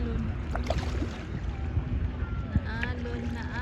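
Waves wash in at Woodbine Beach on a summer day, a rough, continuous water and wind rush close to the microphone, with people talking over it.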